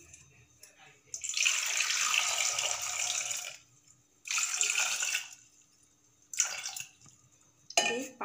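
Water is poured in three separate bursts into a pressure cooker holding egg and potato curry, each a close splashing gush. Quiet gaps fall between the pours.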